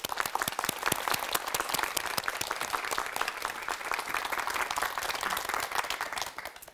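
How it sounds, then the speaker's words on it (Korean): Sustained audience applause welcoming a speaker to the front at a church testimony gathering, dense steady clapping from a crowd throughout with no talking, tapering off at the very end. "황영옥 성도님을 박수로 모시겠습니다."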